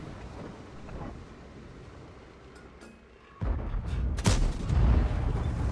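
A Leopard tank cannon firing in a video game, heard over quiet wind and engine rumble: a sudden heavy blast past the midpoint, then a sharp crack and rumbling aftermath.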